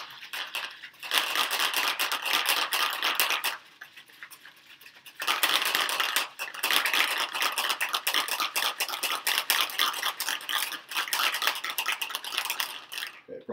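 A large shaker bottle of peanut butter milk is shaken hard, giving loud, continuous sloshing and rattling in two long bursts separated by a short pause, close up with no talking.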